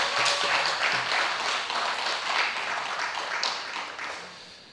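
A church congregation applauds during a Sunday worship gathering, a dense, steady wash of many hands clapping that holds fairly even for several seconds, then fades slightly toward the end.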